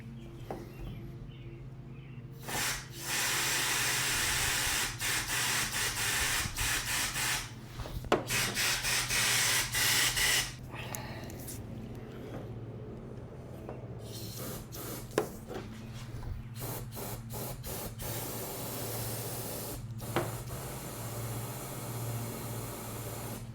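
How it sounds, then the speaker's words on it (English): Air hissing through the sunroof drain holes of a Foxbody Mustang, heard as several close bursts of broadband rushing hiss that start and stop over a steady low hum. "it sounds like it's moving air"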